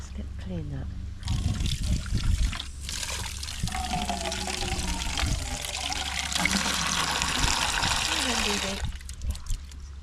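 Water runs from an outdoor tap beside a dog bowl near a church, a steady splashing pour close by that starts after a short pause and stops near the end, with talk over parts of it.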